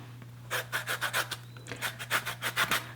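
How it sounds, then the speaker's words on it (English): A medium to large lemon is zested on a grater in about a dozen quick rhythmic rasping strokes, close and clear over a low steady background hum. "Now we're going to zest 1 medium to large lemon."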